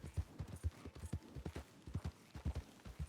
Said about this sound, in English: Oh, is my horse going crazy?